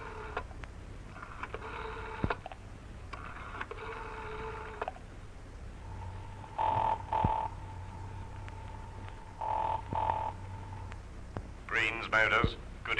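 In a radio drama, a telephone rings on the other end of a call, sounding as a faint, evenly repeated burst pattern heard several times in a row.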